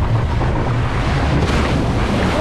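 Water surging and splashing on the Dino Splash boat ride at Parc Saint Paul, a loud, steady close rush of water with wind noise and no clear voices.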